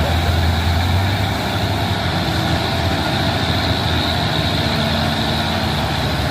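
A heavy truck engine labors steadily and low, droning as it strains up a climb on a roadway, a continuous deep rumble with a faint voice under it.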